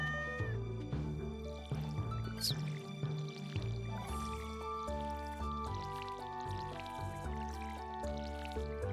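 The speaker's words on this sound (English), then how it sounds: "we shall pet the cat" A cat in the Stardew Valley video game meows when petted, with short cat calls sounding over steady, busy game music.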